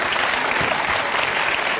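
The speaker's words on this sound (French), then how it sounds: "On vous applaudit." A studio audience applauds steadily on a French television quiz show, a dense, even burst of clapping filling the short moment on its own.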